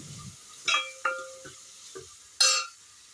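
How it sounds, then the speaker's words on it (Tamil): Dried red chillies stirred in a frying pan, with a few distinct scraping and clinking strokes of a spoon against the pan over a faint sizzle, the last stroke sharper and louder. "வரமிளகா போட்டு கிண்டி விட்டோம்."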